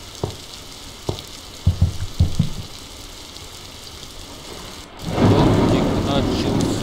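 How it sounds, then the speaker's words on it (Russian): In a Block Story video game, a few scattered thunder cracks sound over a quiet background, then rain bursts in and pours steadily, loud and hissing. "Начался и громко гремит молния. Гром."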